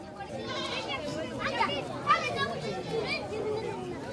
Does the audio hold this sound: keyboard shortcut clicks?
no